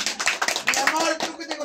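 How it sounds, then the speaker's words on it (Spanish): Children and adults at a kids' birthday party clap in uneven bursts, close and fairly loud, with voices mixed in among the clapping. "¡Aplauso fuerte para el futuro doctor!"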